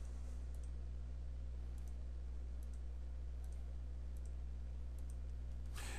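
Faint computer mouse clicks while duplicating objects in landscape design software, about eight small sparse ticks spread over a steady low hum, with a slightly louder click near the end and no speech.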